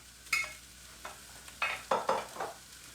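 Sausage meat frying in a pan, a low background sizzle punctuated by several sharp scrapes and clinks of a utensil moving the meat around, close by with no talking.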